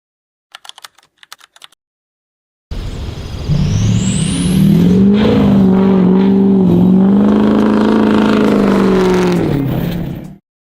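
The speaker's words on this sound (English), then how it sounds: "In stock form, the AJD is a pretty great-sounding powertrain" Ford 7.3-liter AJD diesel engine with a custom exhaust, a few faint clicks followed by a loud, sustained rev with a deep droning rumble that swells, wavers, and then cuts off abruptly.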